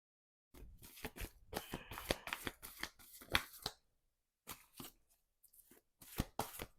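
A deck of tarot cards is shuffled close up in quick, crisp riffling bursts, with a short pause before a few more shuffles.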